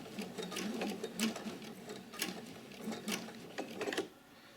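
A sewing machine stitches slowly at a very short stitch length around the corner of a single welt pocket on a coat, its needle ticking in short uneven runs with clicks of the mechanism, close and without voices.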